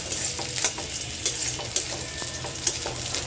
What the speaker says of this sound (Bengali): আমার পেঁয়াজটা ভাজা ভাজা হয়ে গেছে।